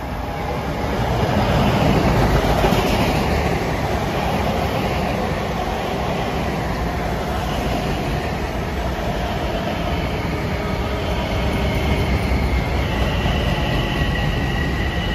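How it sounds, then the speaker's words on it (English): LIRR train 1515, running from Huntington to Penn Station, passes along the triple track at Carle Place behind soundproof walls: a loud, steady rolling roar of wheels and cars with a sustained high whine over the top. "Approaching at 7:07 is train 1515"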